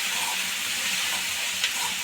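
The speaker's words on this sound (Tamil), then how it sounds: "ஒரு நிமிஷம் வதங்கட்டுங்க." Ingredients for a brown chickpea sundal kuzhambu sauté in a pan with a soft, steady sizzle and hiss, close and continuous with no voices.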